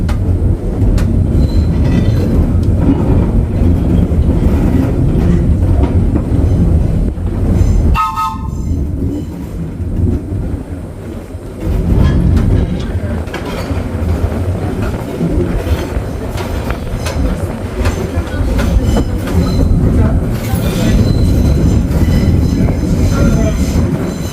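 A New York City IND R9 subway car rolls loudly at a trolley museum, with continuous rumble, rail clatter and wheel squeal on a curve, a brief dip in the noise midway, and a horn blast.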